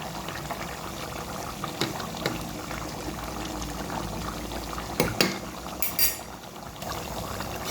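Water is poured into chicken curry in a pot, giving a continuous liquid splashing and bubbling with a few louder clinks and splashes near the end, close and moderately quiet.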